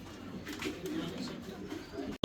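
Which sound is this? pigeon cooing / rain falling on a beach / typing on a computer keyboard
pigeon cooing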